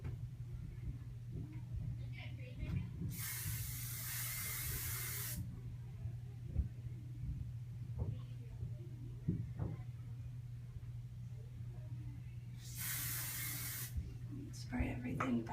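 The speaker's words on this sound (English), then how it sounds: "Spray everything back." Hairspray hisses onto styled hair in two bursts of a few seconds each, close and bright, over a low steady hum and faint handling noises.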